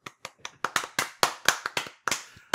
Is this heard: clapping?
yes